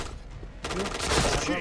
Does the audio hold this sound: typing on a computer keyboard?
no